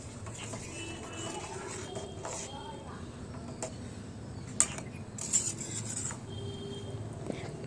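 Fried chicken pieces for chili chicken being lightly stirred in a pan with added water, with soft scraping and occasional metallic clinks of a utensil over a low steady background.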